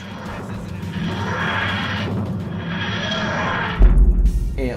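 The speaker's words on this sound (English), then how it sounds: "play the TARDIS landing, for instance" The TARDIS landing sound effect from Doctor Who plays back, a wheezing, grinding, pulsing whoosh that swells steadily and ends with a heavy deep thud.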